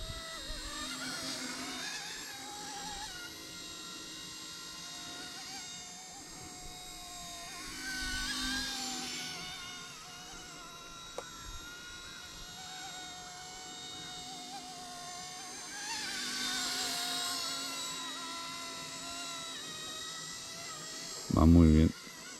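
An ERA-RC C189 MD500 radio-controlled helicopter hovers and flies with a steady high-pitched rotor and motor whine that swells and fades as it moves closer and farther, ending in a brief loud bump.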